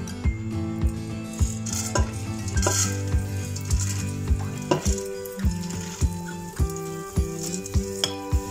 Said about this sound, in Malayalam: ഇനി നമുക്ക് അതിലേക്ക് പരിപ്പ് ഇട്ട് കൊടുക്കാം.